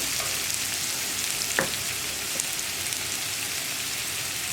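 Onions and curry leaves frying in a pan, a steady dense sizzle with a faint scrape of stirring partway through, continuous and close.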